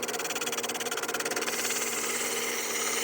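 A drill press spins a sanding drum against rough-cut wood, a loud, steady whirring drone with a rapid pulsing vibration that smooths out after a moment.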